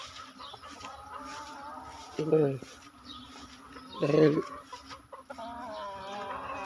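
Chickens cluck in two short bursts, close by, over a steady farmyard background with someone talking, on a rainy night.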